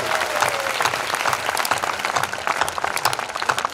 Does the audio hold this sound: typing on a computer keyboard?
no